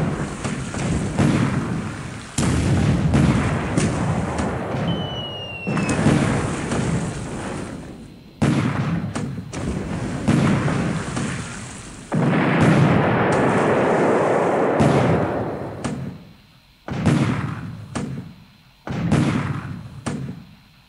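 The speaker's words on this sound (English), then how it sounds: "the counter battery fire or the battery fire of Darwin Fortress is surprisingly strong" Naval artillery fire in the War in the Pacific strategy game, including a fortress's 6-inch batteries firing on destroyers and cargo ships, a series of loud booming blasts, each rolling out into a long decay before the next.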